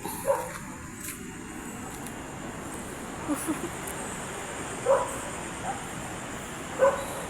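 A dog barks several times at night in the historic walled district of Intramuros, Manila. The barks are faint and distant, scattered over steady outdoor hiss, and low voices murmur in the background.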